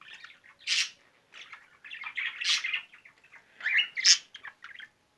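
Pet budgerigars chirp and squawk in short, bright bursts with brief pauses between them, close and fairly quiet, with no talk.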